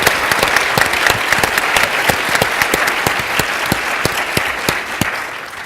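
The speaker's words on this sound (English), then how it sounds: "you can give him a round of applause too." A conference audience at a transit planning gathering breaks into sustained, steady clapping, loud and close, with dense overlapping claps throughout.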